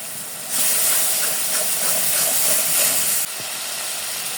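Steady, loud sizzling hiss from chili powder, cumin powder and tomato sauce being sautéed in a pan for a spicy bread, corn and meat snack, swelling suddenly, holding for about three seconds, then easing to a softer hiss.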